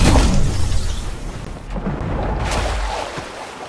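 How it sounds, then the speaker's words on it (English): A shockwave grenade goes off in Fortnite, a loud low boom at the start that rumbles and fades over several seconds, with a second softer rumble later and no talk. "I have to use my shockwave"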